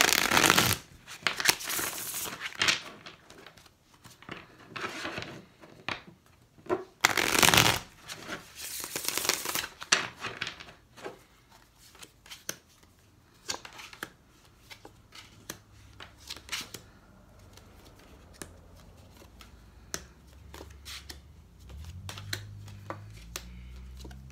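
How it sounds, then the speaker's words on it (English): Tarot cards are shuffled in several quick riffling bursts, each followed by softer handling and tapping; a faint low hum creeps in near the end. "Two more shuffles for Libra."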